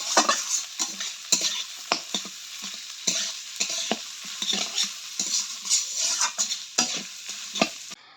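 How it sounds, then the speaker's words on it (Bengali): Chopped onion and chili fry in hot oil in a wok, the start of a fish curry: a steady bright sizzle broken by frequent sharp scrapes and clacks of stirring, close up, with no talking. "কড়াইয়ের মধ্যে তেল দিয়ে দিয়েছি, এখন রান্না করব মাছের ঝোল। তার জন্য পেঁয়াজ আর লঙ্কা কুচি দিয়ে দিলাম।"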